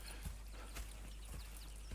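Horse hooves clip-clopping in the Red Dead Redemption video game, a few soft, irregular hoof falls spaced across two seconds over a low, steady background rumble, quiet and somewhat distant.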